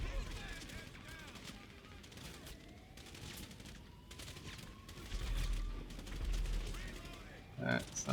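GTA 5 gunfire comes in rapid bursts and scattered shots, moderately loud amid other game noise and a steady background bed.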